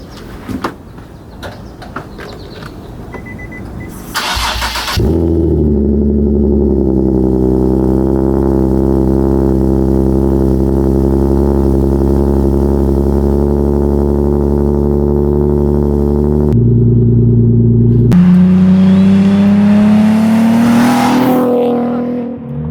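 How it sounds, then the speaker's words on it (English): A Nissan 370Z's VQ engine cold start with custom exhaust cranks briefly, then catches and settles into a loud, steady idle with a deep exhaust rumble, revving up sharply near the end. "I'm gonna bless you guys with a nice VQ cold start."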